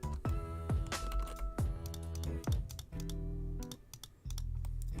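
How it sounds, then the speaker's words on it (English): Loud, sharp clicks from a new computer mouse, sounding in quick irregular bursts close up, with no talk over them. "It's very loud clicking."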